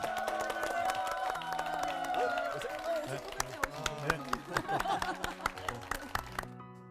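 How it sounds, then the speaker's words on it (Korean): An audience at a lecture claps to welcome the speaker, with talking at first and then a steady patter of applause growing more rhythmic toward the end; fairly faint. "우리 황성주 박사님의 강의 박수로 우리 청해 듣겠습니다"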